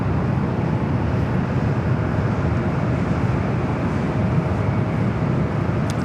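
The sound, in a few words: airliner taking off at LAX airport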